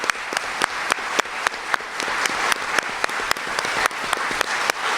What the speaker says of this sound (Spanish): para quien pido un fuerte aplauso también